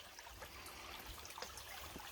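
A small stream along the Appalachian Trail in Massachusetts, near Goose Pond, flows and trickles softly, a faint, steady gurgle heard alone without any talking.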